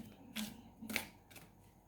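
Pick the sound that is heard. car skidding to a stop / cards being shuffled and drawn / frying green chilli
cards being shuffled and drawn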